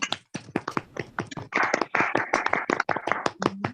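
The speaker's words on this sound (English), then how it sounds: "Can we have a huge round of applause for them?" Online audience at the Xenia 2022 closing ceremony clapping for the event's chairpersons: a run of close, separate hand claps in an uneven rhythm, thinning and thickening, with a brief voice near the end.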